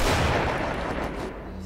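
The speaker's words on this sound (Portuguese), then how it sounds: "Vou dar um tiro de redkin aqui pra," A Red9 pistol fires in the Resident Evil 4 video game, a single loud, booming shot whose dense blast and rumble fill the brief moment.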